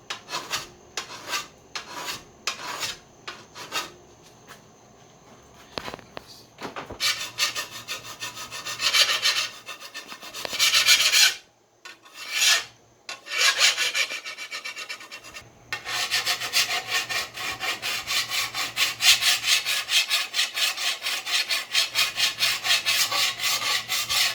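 A blade is rubbed flat against a sharpening stone, its bevel being worked down, in steady rasping strokes, sparse and separated at first, then dense continuous scraping that pauses briefly before resuming loud and even.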